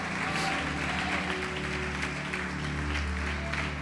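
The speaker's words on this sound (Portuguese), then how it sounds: "Pode aplaudir, glorificar Jesus." Applause from a church congregation during a sermon praising Jesus, a steady dense wash of clapping holding at an even level for the full stretch, with a sustained musical tone running beneath it.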